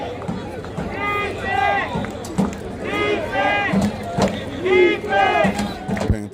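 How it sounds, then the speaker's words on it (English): A high school football crowd at Linden roars and chants in rhythmic waves of shouting to fire up the home Panther defense, loud and repeated with rising and falling bursts. "Panther crowd looking to get that defense hyped up"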